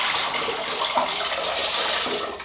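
Roughly a litre of water pours steadily into a cooking pot as the first batch set to boil, a continuous close splashing rush that stays even throughout with no talk.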